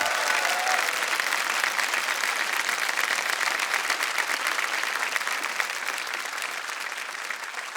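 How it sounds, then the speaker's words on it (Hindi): Sustained applause from a studio audience on the KBC game show, dense and steady, filling the space and slowly tapering toward the end, with no speech over it. "तालियां बज जाए इनके लिए।"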